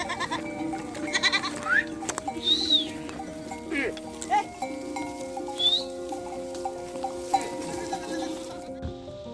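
Goats of Yörük nomads on the road to the highland pasture bleat repeatedly at close to middle distance, several separate calls rising over a busy outdoor background with soft voices.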